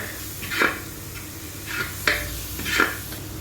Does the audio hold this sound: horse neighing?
no